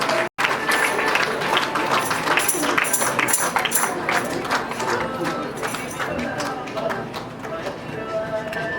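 Wedding guests at a Nepali Christian wedding clap together to welcome the pastor, a steady dense patter of many hands that holds loud for several seconds, with talk mixed in.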